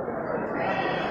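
Goats bleating amid the busy clamor of the Gelumpang Payung goat market, held before a fasting-month feast. The calls blend into a dense, continuous crowd of animal noise at moderate loudness.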